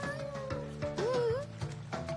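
A cat meows several times in a row, rising and falling cries over a busy background of music and faint voices, fairly close but partly masked.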